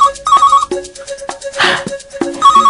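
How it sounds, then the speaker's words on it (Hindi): A telephone rings in an indoor comedy scene with a loud, close electronic ringtone in repeated melodic bursts separated by short gaps, and no talking over it. "लगता है ग्राहक का फोन आया।"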